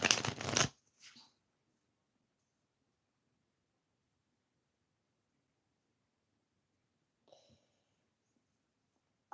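Tarot cards are shuffled in one loud, close burst at the start, followed by a few soft handling rustles and a faint brief touch near the end, with long stretches of quiet between.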